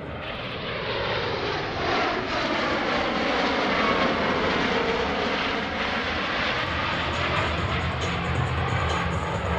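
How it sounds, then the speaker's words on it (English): A C-17 Globemaster military transport jet passes show center at an airshow, its engines giving a steady, loud, broad roar that holds for nearly ten seconds with a faint swelling and shifting tone as it goes by. "Notice how quiet the C-17 is while passing at show center."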